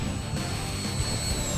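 E-flite A-10 RC jet on a windy day, its ducted-fan whine holding a steady high tone with a constant roaring rush, loud and close as it flies past.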